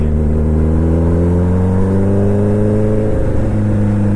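Suzuki Hayabusa motorcycle engine on a test ride, a loud, close, steady drone that climbs smoothly in pitch as the bike accelerates, with no talk.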